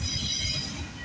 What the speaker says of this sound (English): Finally, this is my first CPKC train today.